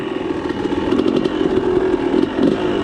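A dirt bike engine runs loud and close, with a steady buzzing drone and small rises in revs throughout.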